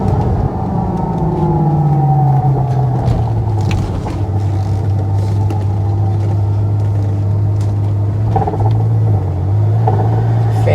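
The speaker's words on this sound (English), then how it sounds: "Fans come back on." Electric engine cooling fans on a Ferrari FF, running after the car is switched off, give a loud, steady whirring drone that dips slightly in pitch early, then holds nearby and continuous.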